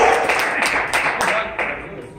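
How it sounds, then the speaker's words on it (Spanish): A church congregation applauds during a sermon, with a burst of clapping from a crowd that fades over a couple of seconds. "den ese aplauso a Jesucristo"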